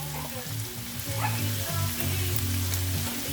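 Freshly chopped onion sizzles loudly and steadily in a hot pan while fried rice is being cooked, a dense close frying hiss with faint stirring and some tonal background sound.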